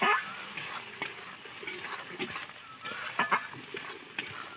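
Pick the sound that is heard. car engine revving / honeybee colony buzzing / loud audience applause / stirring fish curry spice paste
stirring fish curry spice paste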